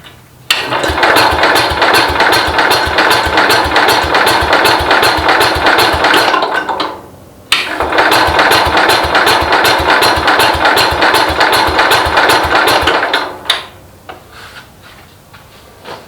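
A classic garden tractor engine catches and runs with a steady, loud rapid chatter, cuts out briefly around the middle, then restarts and runs again before dying away near the end.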